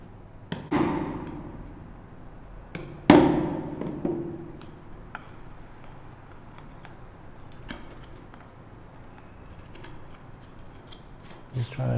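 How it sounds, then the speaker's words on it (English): A chisel strikes and pares into wood while cutting a mortise for a tissue box lid, a few sharp knocks spaced apart followed by quieter scraping, close up with no talk. "Just trying to dig a deeper and deeper mortise with each cut."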